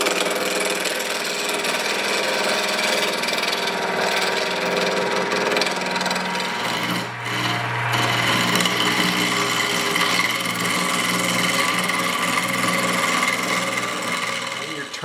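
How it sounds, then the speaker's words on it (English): Dense hardwood or resin spindle for a wand spinning on a wood lathe under a carbide negative rake cutter, giving a steady whirring, scraping hum that persists loudly throughout with a brief dip midway. "I'm going to be turning these with my carbide tools"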